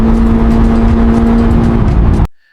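A restored Pagani supercar that had sat in a barn for a decade drives out with a loud, steady engine roar and whir that holds close for about two seconds, then cuts off abruptly to near silence.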